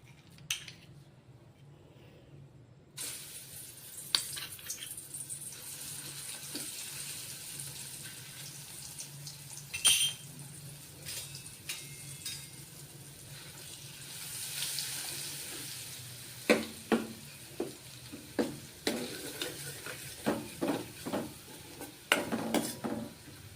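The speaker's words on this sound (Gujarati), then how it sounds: "તેમાં ચટણીનો વઘાર કરીશું." Chutney is tempered in about two spoonfuls of hot oil in a pan, giving a soft, low sizzle under repeated clinks and scrapes of a spoon stirring, quiet and close with no talk.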